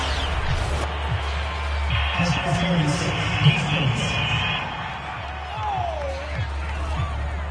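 Home crowd in a PS4 football video game cheering in a steady broad roar, with game commentary talking over it throughout.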